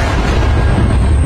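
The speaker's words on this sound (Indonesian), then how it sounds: "Lalu bom itu pun meledak." A bomb carried in a terrorist's bag explodes as a loud, dense, sustained blast with a heavy low rumble that fills the whole moment, with no voices.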